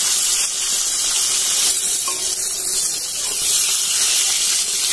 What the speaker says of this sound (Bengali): তো বেগুনটা কড়াইয়ে দিতে দিতে দেখছি এক পিঠ ভাজা হয়ে গেছে।